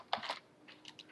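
A computer keyboard is typed on in a few quick, faint keystroke clicks spread across a brief moment.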